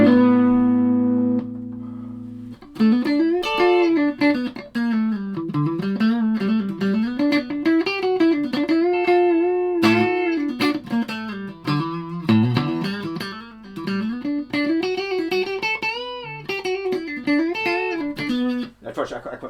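A guitar played through a Behringer TO800 Tubescreamer overdrive pedal, sustained notes and quick melodic runs with a mildly driven, mid-focused tone, loud and continuous with no talking.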